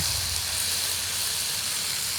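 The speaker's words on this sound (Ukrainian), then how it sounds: "Отак смажимо чесник з лисичками на вершковому маслі." Garlic and chanterelle mushrooms frying in butter in a pan, giving a steady, close hiss and sizzle that holds level throughout without pause.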